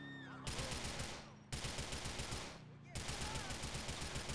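Rapid automatic gunfire rattles in a Need for Speed Most Wanted race, arriving as three sustained bursts of fast repeated shots separated by brief gaps.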